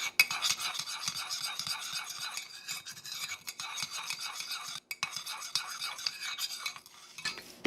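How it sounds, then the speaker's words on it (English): Butter and white and brown sugar being stirred in a bowl for keto chocolate chip cookie dough, a steady scraping, clinking rhythm of a utensil against the bowl, close and continuous for the whole stretch with no talking. "you're going to stir very well and get your sugars combined"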